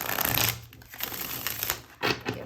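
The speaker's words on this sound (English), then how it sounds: "give her a good shuffle as well." A Personal Power Oracle card deck is shuffled close up, with quick papery riffles and card slaps in irregular bursts, loudest at the start and near the end, with no talking.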